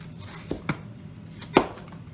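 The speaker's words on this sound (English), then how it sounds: "you want to make sure the knife stays on the board at all times" A knife chopping apples on a cutting board for an apple crisp: three crisp, close chops, two in quick succession and a louder one after a short pause, over quiet room noise.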